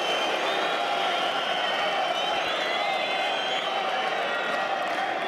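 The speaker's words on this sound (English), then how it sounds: "You can hear the crowd's response." A Roland-Garros tennis crowd at a Federer versus Djokovic semi-final reacts with sustained applause, cheers and whoops, a dense continuous roar of many people filling the stadium.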